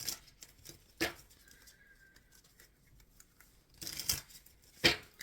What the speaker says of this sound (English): Shuffling for the concluding message, Spirit, for the Virgo Collective.